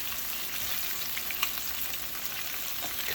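Wild mushrooms fry in a pan, giving a dense, even sizzle and crackle heard up close for a few seconds with no voices.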